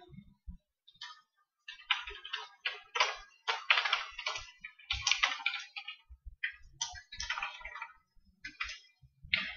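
Keys clatter on a computer keyboard in quick irregular bursts as code is typed into BlueJ, fairly close and quiet, with no talking.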